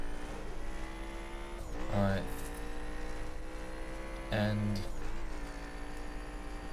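A McLaren engine in the racing video game The Crew holds a steady, buzzing tone, rising through the gears with two brief shift dips. Someone talks briefly over it.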